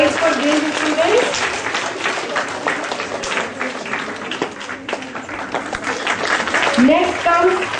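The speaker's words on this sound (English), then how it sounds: "Keep clapping, children." Schoolchildren clap steadily and loudly at a Republic Day school assembly, a dense, continuous wash of many hands with occasional voices rising above it.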